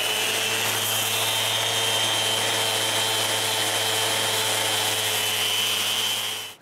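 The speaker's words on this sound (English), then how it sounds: "I can sand the excess." A power sander smooths excess material off a dried wood base for a dust filtering system. It gives a loud, continuous whirring drone that holds steady for several seconds, then cuts off at the end. There is no talk.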